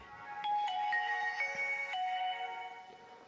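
A Nokia 7230 Slide mobile phone, switched on without a SIM card, plays its startup tune: a short series of bright synthetic tones stepping between pitches, clear and fairly loud with no talking.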